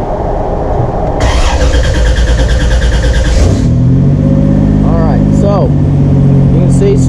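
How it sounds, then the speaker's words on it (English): A Buick Grand National fitted with an aftermarket ECU and a drive-shaft speed sensor cranks briefly, then catches and settles into a steady, loud idle, with some squealing tones riding above the engine. "So we're going to start the car,"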